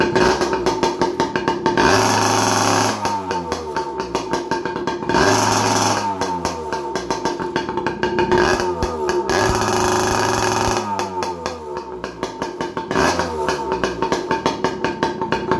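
Yamaha PW80 dirt bike running with its muffler baffle removed, a loud, raw, rapid two-stroke popping close by, with throttle blips rising and falling about every three seconds.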